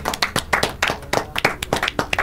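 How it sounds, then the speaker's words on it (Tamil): A person claps their hands in a quick, steady rhythm, about a dozen sharp, close claps in a row with no talk over them. "கைதட்டு"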